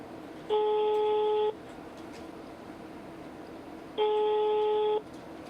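Two one-second bursts of a telephone busy signal on an unanswered call, a steady electronic tone repeating after a pause, clear over faint line hiss.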